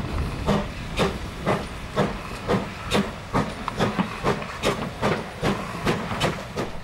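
A steam locomotive, a pannier tank at a station, gives rhythmic bursts of hissing steam in a steady chuffing pattern, moderately loud against a continuous background rumble.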